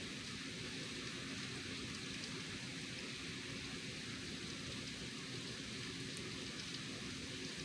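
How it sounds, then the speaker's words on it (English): Steady rain pouring outdoors on a cloudy, overcast day: a constant, even hiss with no breaks, fairly faint and without any voices. "See the rain? This is the rain right here."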